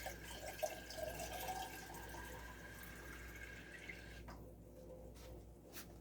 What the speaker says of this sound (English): Now I am going to add a pint of water to